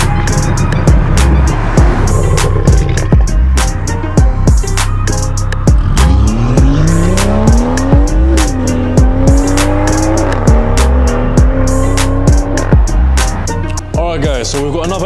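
A BMW M140i on fresh Michelin tyres pulls hard from first into second gear, loud engine rising steadily with shift breaks, over constant road and wind roar.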